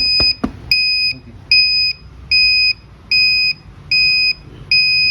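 An electronic buzzer on a smart disaster management school project model sounds a loud, close series of regular beeps, about seven evenly spaced pulses, with a couple of faint knocks at the start and no speech.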